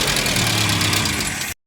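A van's engine idles steadily after its carburetor has been adjusted, the van having been towed in earlier because it would not start. The close, even rumble runs alone for about a second and a half, then cuts off.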